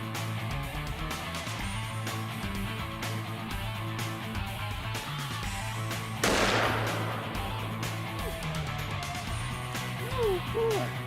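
A single loud gunshot at a target rings out midway through a continuous hum of background noise, and a softer crack follows near the end.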